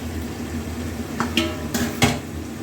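A spoon scrapes and knocks against a pot while chicken curry with yogurt is stirred. A few short metallic clinks sound close over a low background hiss.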